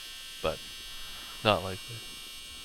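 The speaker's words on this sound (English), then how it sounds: "that buzzing sound was just my dryer going off." A household clothes dryer's buzzer drones as a steady, faint electric hum in the background throughout, while a person speaks a few short words over it.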